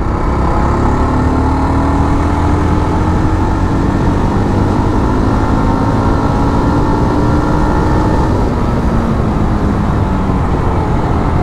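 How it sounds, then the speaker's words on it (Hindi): A Yezdi Roadster motorcycle pulls hard in fourth gear past 4000 RPM, its engine note climbing steadily and loud throughout, droning close up with wind rush and no talking. "मैं फोर्थ गियर में हूँ, 4000 RPM पे मैं जाता हूँ, उसके बाद में आप इसका पावर देखो"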